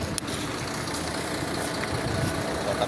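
A truck engine idles at a pier, a steady low rumbling drone with little change, close and moderately loud throughout.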